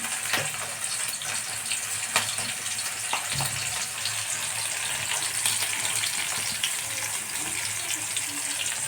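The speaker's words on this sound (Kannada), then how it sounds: "ಈ ಸ್ವಲ್ಪ ಮೆಣಸಿನ್ಕಾಯಿ ಫ್ರೈ ಆಗಲಿ ಚೆಂದಾಗಿ" Green chillies fry in a pan, giving a constant hissing sizzle with scattered small crackles and pops, steady and close, with no talk over it.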